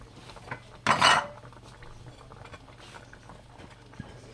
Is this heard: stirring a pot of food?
yes